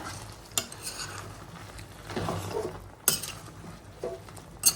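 A spoon stirs boneless chicken pickle as it cooks in a pan, with soft scraping and a low sizzle broken by a few sharp metallic clinks against the pan.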